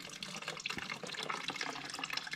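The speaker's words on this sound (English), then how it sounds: "And we'll just let this drain the rest of the way." Coolant draining from a 2020+ Beta RR 4-stroke motorcycle radiator, a faint steady trickle and splashing pour of liquid into a container, close and alone without talk.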